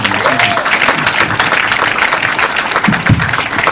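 Enthusiastic applause from an audience, dense clapping sustained for several seconds, with a few voices and cheers mixed in.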